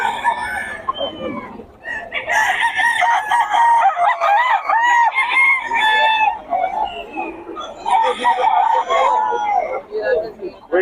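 Red Kelso sweater cross gamecock rooster crowing repeatedly at a market, several loud, close crows in a row with clucking and other fowl around, no talk heard.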